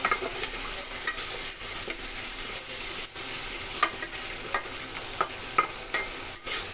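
Small shrimp fry with green chillies and cumin for a bharta, giving a continuous close sizzle broken by repeated sharp spatula stirs and scrapes against the pan, with no talking.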